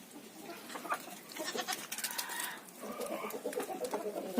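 A newborn goat kid bleats on a farm among other animals, with thin cries and chicken-like clucks scattered through a steady mix of farmyard sounds at moderate distance.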